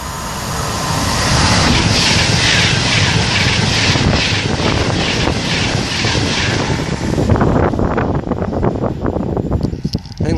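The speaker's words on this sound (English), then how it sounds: "We have another train to pass by. Pendolino, I'm standing well back for this." A Pendolino express train rushes past at Acton Bridge, a loud sustained roar with wind buffeting that holds steady for several seconds, then thins into rhythmic clattering as the last carriages go by.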